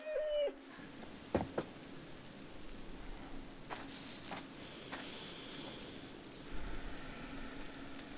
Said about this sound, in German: der Hund hat die Geräusche gemacht